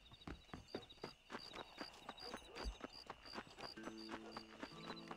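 Steady clip-clop of horse hooves at a trotting rhythm in the video game Red Dead Redemption, fairly close, with a faint tonal hum and a brief synthetic chord near the end.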